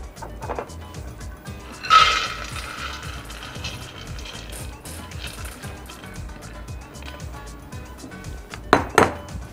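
Dishes and cutlery clink softly and scrape as cooked lentils are spooned onto a serving plate in a home kitchen, with a couple of sharper clinks standing out against quiet background noise.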